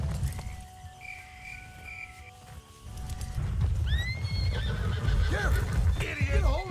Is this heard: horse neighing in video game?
yes